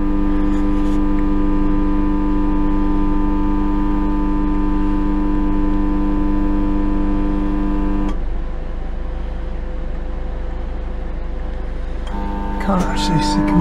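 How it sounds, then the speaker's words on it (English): Steady electrical hum with strong harmonic tones aboard a boat once power comes on, loud and constant for about eight seconds before shifting to a lower, rougher drone with some clatter near the end. "got a hum to it."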